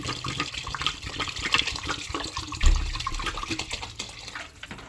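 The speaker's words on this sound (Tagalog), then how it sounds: "Lagyan po natin ng tubig" Water splashes and pours steadily into a cooking pot, with a louder gush partway through, heard close up with no talking.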